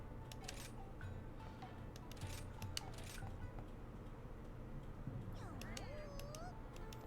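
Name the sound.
cats meowing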